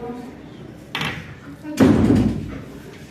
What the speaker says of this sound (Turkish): Kapıyı bir kapayalım.